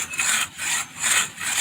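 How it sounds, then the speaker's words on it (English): Hand saw cutting through a tree limb in steady back-and-forth strokes, four rasping passes with brief pauses between, close and fairly loud with no talking. "So we're going to start sawing."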